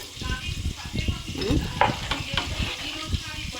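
Green chilies frying in a pan for a tangy fish curry; a brief, close sizzle with quick stirring scrapes and a light metallic clink.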